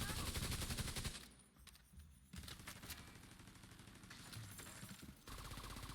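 A deployable turret rattling off rapid automatic bursts at enemies in the shooter game The Division 2, dense gunfire with short pauses between volleys.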